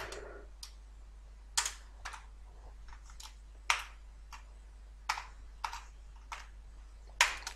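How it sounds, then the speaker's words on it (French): Sparse keystrokes on a computer keyboard while entering a value, about a dozen separate clicks spread unevenly over several seconds, close and fairly quiet, with no talking. "Et je vais taper rentrer une valeur"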